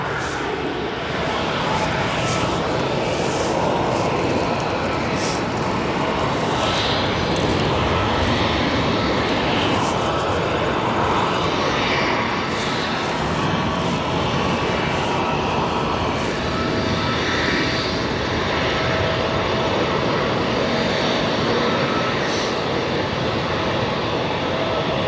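Airliners arriving on a busy runway at O'Hare Airport, a loud continuous jet engine roar that swells and fades over about twenty-five seconds, heard alone with wind noise.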